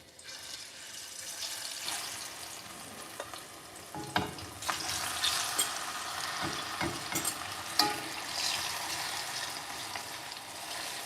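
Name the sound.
plantains frying in a pan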